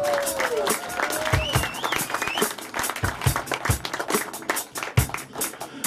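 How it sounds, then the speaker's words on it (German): An audience at an outdoor blues band concert claps for the bass player, a dense patter of applause with a few whistles, heard close and fairly loud. "Applaus für unseren Bassisten"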